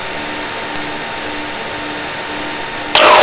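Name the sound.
Pilatus PC-12 turbine engine heard in flight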